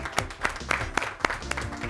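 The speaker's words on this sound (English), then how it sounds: "Give a round of applause to University Park as well." A small audience at a high school Science Bowl quiz competition gives scattered applause, a handful of distinct claps spaced roughly a quarter second apart, faint and thin under a little background voice.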